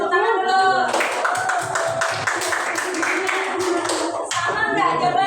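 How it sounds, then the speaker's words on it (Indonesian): A classroom group claps together for about four seconds, a dense burst of many hands after a brief voice, fading out as speech resumes. "Beri tepuk tangan dulu."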